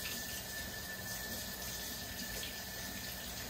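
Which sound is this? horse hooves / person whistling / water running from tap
water running from tap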